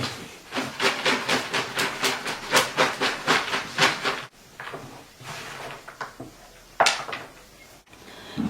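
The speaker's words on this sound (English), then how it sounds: "I'm going to start by sieving my compost" Compost being sieved in a garden: a run of rhythmic, fairly loud scraping and rustling strokes, evenly spaced, then a few scattered lighter shuffles and taps.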